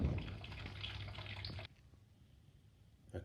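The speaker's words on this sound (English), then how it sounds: "you can see that draining out through the drain plug" Coolant drains through the drain plug of a Honda CB650R motorcycle as a steady, close liquid trickle that stops abruptly partway through, followed by quiet; no one speaks.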